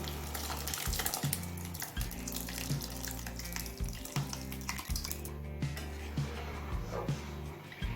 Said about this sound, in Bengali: জল দিয়ে হাই ফ্লেমে মিনিট পাঁচ ছয় ফুটিয়ে নিয়েছি এবার ডাল সিদ্ধটা দিয়ে দেবো